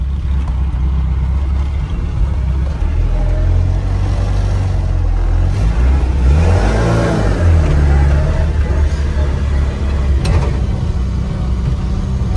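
A 1970 Australian Super Cooper on a test drive gives a loud engine rumble that rises in pitch as it accelerates and then drops away, with road noise steady underneath and nearby cabin sounds.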